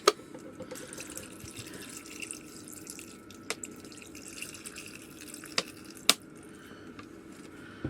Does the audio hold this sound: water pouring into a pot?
yes